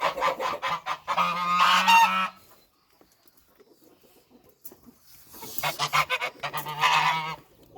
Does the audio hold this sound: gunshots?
no